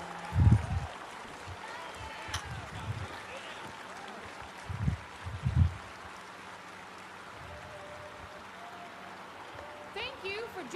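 Applause from a theater crowd after a musical performance in Saint-Denis in the video game Red Dead Redemption 2, heard as a few short bursts of clapping spread across the clip over a low background murmur.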